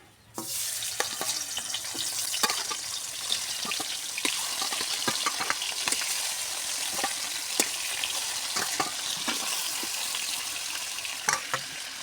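Khoira fish pieces fry in hot oil in a pan, giving a steady loud sizzle with frequent sharp pops and crackles throughout, and no voices.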